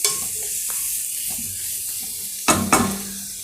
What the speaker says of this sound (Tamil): ஸோ இந்த கேப்சிகம் வந்து அப்படியே ஃபாஸ்ட்டாக வதக்கிடுங்க